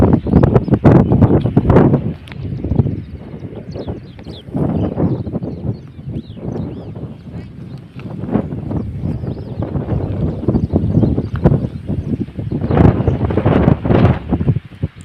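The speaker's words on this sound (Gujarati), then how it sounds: "પવન એટલો હાલે ગાઈસ કે મારો અવાજ નથી આવતો" Strong wind buffets the microphone in heavy, uneven gusts, producing loud low rumbling bursts that rise and fall throughout.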